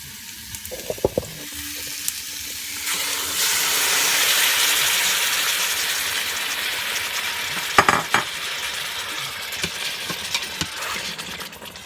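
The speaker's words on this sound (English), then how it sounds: "Now my shoulder roast is browned on both sides, so I'm going to take my sauce and cover my roast with it." Sauce poured over a browned beef shoulder roast in an Instant Pot sets off a sudden loud, hissing sizzle that swells, then settles into steady frying with a few clinks and bumps.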